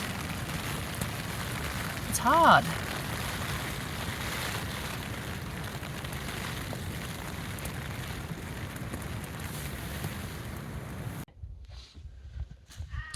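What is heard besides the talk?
rain and strong wind on a tent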